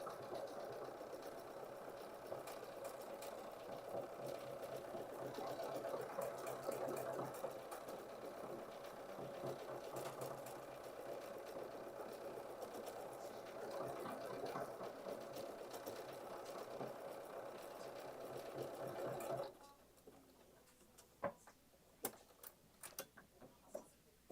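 An embroidery sewing machine stitches out a 200%-enlarged design for a Kimberbell rope bowl, a steady close mechanical whirring hum with rhythmic needle clatter that runs continuously for about 19 seconds, then stops, leaving a few scattered clicks.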